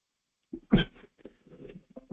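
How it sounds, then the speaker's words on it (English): A short, harsh cough bursts out close by, followed by a few softer throat sounds and rough breaths. "I'm so sorry for this cough."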